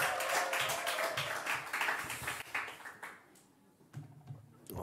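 An audience applauds a pastor coming to the stage, a lively run of clapping that thins and fades partway through before a few scattered claps and a renewed burst at the end.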